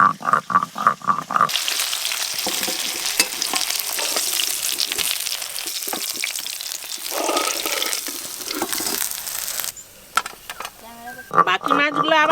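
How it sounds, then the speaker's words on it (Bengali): Fish sizzling steadily as it fries in a pan for a Bengali shol fish curry, a loud continuous crackle that fills most of the stretch, with a voice talking at the start and end and a brief running-water splash. "বাকি মাছগুলো আবার ওই রকম করে ভেজে নেব।"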